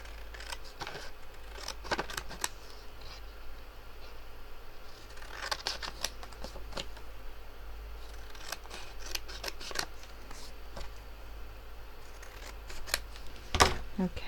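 Scissors snip paper card for a journaling card, a series of quiet, close, crisp cutting clicks over a faint background hum.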